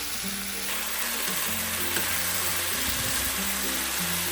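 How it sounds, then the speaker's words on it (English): Spicy Korean chicken and vegetables stir-frying over medium-high heat, a steady loud sizzle throughout with occasional stirring scrapes and low background music, no talking. "Stir fry quickly over medium-high heat for about 2 minutes."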